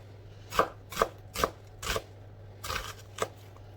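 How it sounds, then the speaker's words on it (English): Knife strokes mince an onion on a cutting board, seven distinct crisp chops in an uneven rhythm, close and clear, with no talking over them. "I'm gonna cut this onion finely, like mince"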